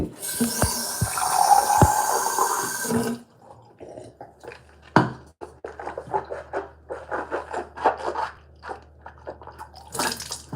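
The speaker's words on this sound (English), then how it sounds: "this one I have to rinse my mouth out" Water running into a sink for a mouth rinse during a bedtime routine, a steady splashing stream that stops, followed by quieter wet swishing, spitting and drips.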